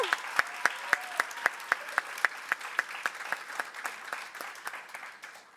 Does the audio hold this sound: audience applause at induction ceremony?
yes